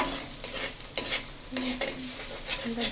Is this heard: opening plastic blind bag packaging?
no